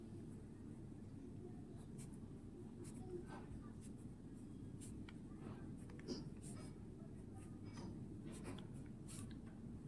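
Pen or pencil scratching on paper while working out factors of numbers in a class 6 maths lesson, a steady soft scribbling that carries on through the clip over a low background hum.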